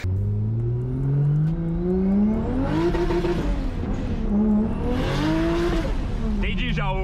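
A Toyota Supra with a 2JZ engine revving hard through rising and falling sweeps, loud and close, with a strong rasping exhaust note and voices underneath.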